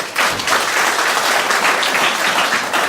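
A church congregation breaks into warm, sustained applause, many hands clapping together steadily and loudly in a large room.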